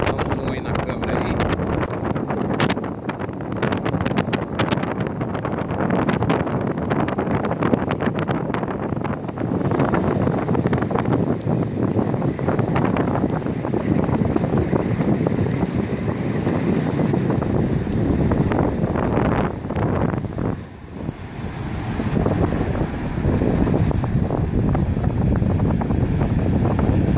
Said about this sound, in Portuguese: Bastante vento.